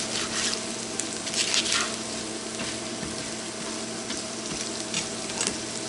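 Food sautés in a hot pan with a continuous bright sizzle, broken by soft stirring scrapes and pops close to the listener. No voices are heard.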